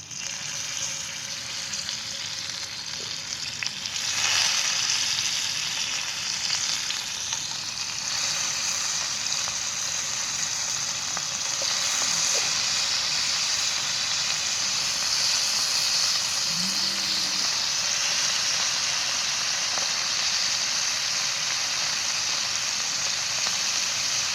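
Salted bangda mackerel shallow-fries in oil over a low flame, giving a steady, even hiss and crackle throughout, with a few faint knocks in the background and no talk.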